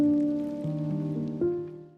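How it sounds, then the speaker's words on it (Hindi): Evening rain in Coorg, a steady wash heard up close for about two seconds, with some tonal hum underneath and no talk. "यहाँ इवनिंग में मस्त बारिश हो रही थी,"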